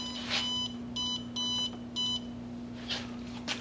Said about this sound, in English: It'll beep when it gets up to temperature.